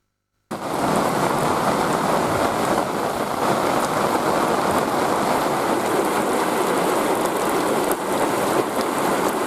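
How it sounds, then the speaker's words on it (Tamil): Heavy rain pours down at a waterfall area, a dense, loud, unbroken roar that starts abruptly after a brief silence and holds steady throughout. "போட்டி மற்றும் சுற்றுவட்டார பகுதியில் கனமழை பெய்தது"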